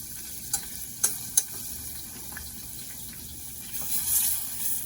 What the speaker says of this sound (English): I'm going to put that in our hot pan and get that melting.